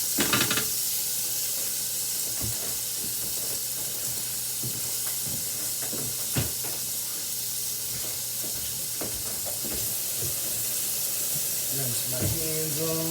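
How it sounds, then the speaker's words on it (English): Meat searing in a hot pan for Bolognese, a steady bright sizzle running throughout with occasional sharp pops and clanks, a voice speaking briefly near the end. "this will be about 2 rounds to sear all this meat"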